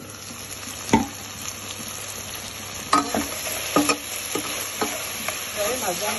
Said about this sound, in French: Je les ajoute. Et je laisse frire quelques instants.